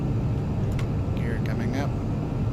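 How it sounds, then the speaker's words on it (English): Broadband engine roar of a jet in the flight sim DCS accelerating down the runway with afterburner lit, a constant heavy rumble throughout, with a voice talking over it. "now we're accelerating down the runway"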